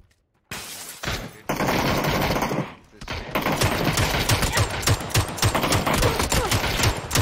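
Sustained PUBG gunfire during a close firefight, with loud automatic bursts and rapid cracking shots that keep going almost without pause after a brief quiet start, with some talk underneath.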